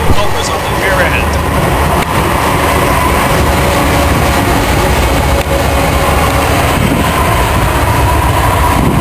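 Freight train rolling past on the Tehachapi Loop with two helper locomotives on the rear end, a loud, continuous rumble and roar throughout, with people talking over it.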